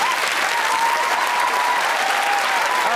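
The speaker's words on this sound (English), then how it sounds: "Let's have a pointless round of applause there," A television studio audience applauds in a dense, even roar of clapping that holds at full strength throughout the brief stretch.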